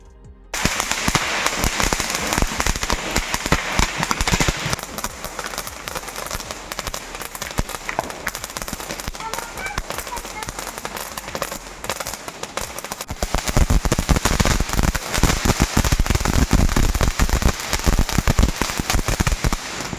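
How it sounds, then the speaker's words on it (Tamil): Diwali firecrackers burst in rapid, dense volleys of sharp cracks and bangs, loud and close, continuing for the whole stretch with a heavier barrage near the end. "மிச்சம் மீதி இருந்த எல்லா பட்டாசையும் நாங்கள் வந்து வெடிக்க ஆரம்பிச்சிட்டோம்"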